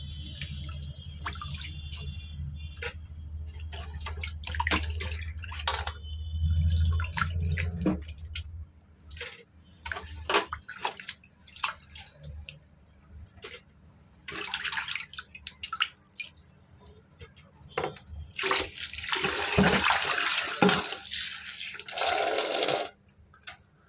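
Tap water runs and splashes while raw meat is rinsed by hand in a home kitchen, a steady stream with wet squelching and dripping, louder bursts of spray near the end, no talking.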